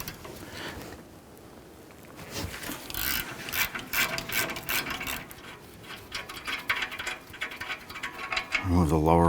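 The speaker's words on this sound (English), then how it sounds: "You may need a breaker bar or something a little bit stronger to loosen and remove these." A ratchet loosens the 17mm caliper bracket bolts on a 2007-2021 Toyota Tundra, rattling in quick clicking bursts up close, with a louder burst of effort near the end.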